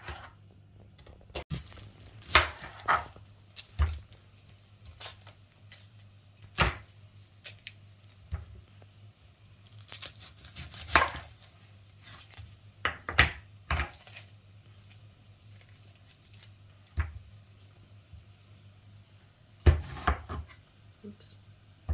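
Vegetables for a lamb, kumara and spinach coconut curry are sliced into a crock pot, making scattered close knife chops and soft kitchen clatter spread across a quiet room, with occasional talk and a steady low hum.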